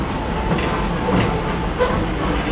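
Loud, continuous rumble of a steam train rolling along the rails at Magic Kingdom, Walt Disney World, with faint rhythmic clatter from the wheels.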